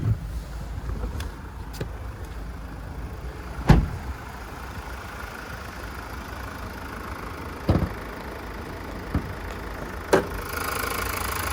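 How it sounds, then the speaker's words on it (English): Diesel engine of a 2020 Mazda CX-5 Akera AWD idling with the bonnet open, a steady low rumble heard close, interrupted by a few sharp knocks and clunks. "as we hear that motor tipping over"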